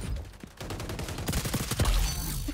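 Rapid gunfire in the shooter XDefiant, sounding as a fast rattle of close shots, like machine-gun bursts, with chaotic game noise and a few louder thumps. Brief talk is faint underneath.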